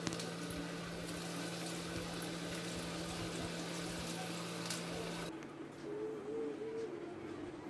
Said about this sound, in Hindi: गोल्डन कलर आने तक हमें इन्हें तल लेना है